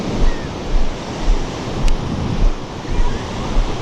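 Ocean surf rolls onto a Jacksonville, Florida beach in steady repeated waves, loud and near, with wind noise over the microphone and no talk.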